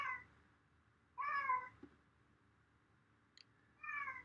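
A visiting cat meows indoors, three distinct plaintive meows spaced a few seconds apart, fairly close against a quiet background.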